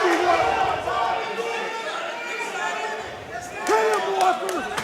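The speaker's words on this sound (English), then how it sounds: "The crowd is loving it." A high school wrestling match crowd cheers and shouts steadily at moderate distance, with a commentator talking over the noise and a few louder yells rising near the end.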